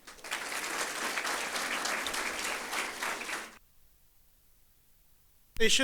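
An audience claps warmly for about three and a half seconds to welcome a guest lecturer, the Deputy General Manager of HR at Panchshil Realty. The applause then stops and a near-silent pause follows.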